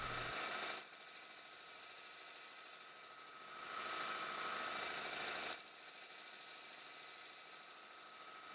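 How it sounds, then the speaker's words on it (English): A belt sander grinding bevels into a small toothpick knife blade made from scrap metal, a steady abrasive hiss and whine that drops briefly partway through, then resumes and cuts off. "Now I'm going to head back over to the belt sander and start grinding in my bevels."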